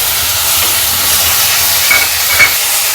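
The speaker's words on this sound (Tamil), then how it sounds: "இப்போ நம்ம எடுத்து வச்சுருக்க தக்காளி இதில் சேர்க்க போகிறோம்." Tomatoes hit sautéing onions in a pan, producing a loud, dense, steady sizzle and hiss close up, with faint stirring movements through it.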